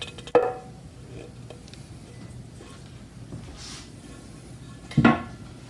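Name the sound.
biscuit dough ball dropped out of the bowl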